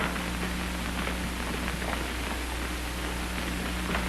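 Heavy rain pours during a storm as a steady, dense hiss that stays constant throughout, with a low hum running underneath and no voices.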